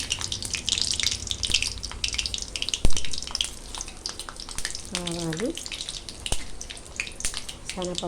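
Mustard seeds and urad dal crackle and sizzle in hot oil for an Andhra potato curry tempering, a steady close hiss with scattered pops and a few faint clinks throughout.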